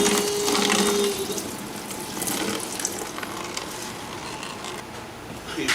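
Coolant drains from a Yamaha Banshee into an old pot, giving a continuous splashing, trickling pour close by, with faint handling noises throughout.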